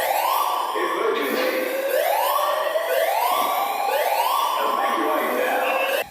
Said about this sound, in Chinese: 一直有警报甲广播声通知民众离开